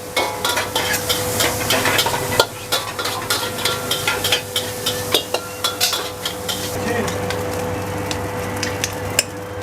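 Three orders of nasi goreng kampung are stir-fried in a busy food stall kitchen at dinner time: a steady sizzle runs under repeated scrapes and clinks of a spatula against the wok, close and continuous, without speech.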